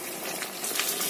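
Meat sizzles and crackles in hot oil, a steady close hiss without any voices.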